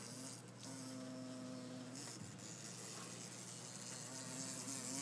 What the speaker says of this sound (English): a freaking hummingbird-sized bee that just flew in my window